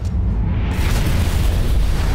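A loud, deep blast in the game Marvel's Midnight Suns, a heavy roaring explosion rumble that fills the whole stretch and holds steady without fading.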